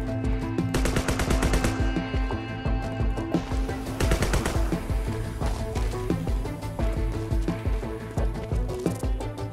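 Rapid automatic gunfire in the ragdoll ninja video game Sword With Sauce, continuous loud bursts with dense rattling shots over game background sound for nearly ten seconds.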